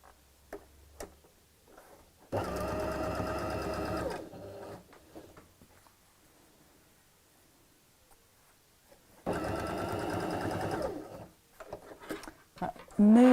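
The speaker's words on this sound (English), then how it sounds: "I'm going to sew straight over the top of that same line of stitching." A sewing machine stitches a fabric tote bag in two separate close, steady whirring runs of about two seconds each, with quiet handling noises between them.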